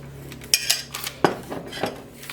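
A utensil scoops thick barbecue sauce over a baking dish, giving soft metallic clinks and scrapes against cookware, a few close, quiet knocks with no talking.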